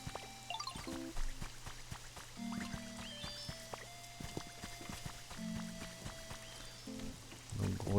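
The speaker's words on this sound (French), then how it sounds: "Il pleut, il mouille, c'est la fête à la grenouille." Rain falling in the video game Pokopia, a continuous patter of drops mixed with game music tones and effects at a steady moderate level, with no speech.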